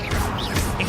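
An Incendio fire spell cast in Hogwarts Legacy gives a short, loud burst of crackling noise with sweeping whooshes that flare and fade within a second. No one speaks.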